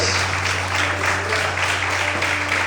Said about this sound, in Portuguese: Quantos podem aplaudir o Senhor essa noite?